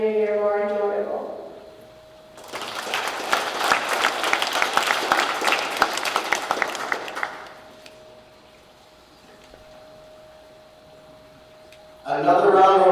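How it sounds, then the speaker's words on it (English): An indoor crowd at a girls' swimming meet claps in a dense burst of applause lasting several seconds, with a steady hum beneath and speech over a PA before and after. "Another round of applause in honor of all of our teachers."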